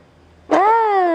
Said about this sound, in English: That makes a cat sound. It's not real.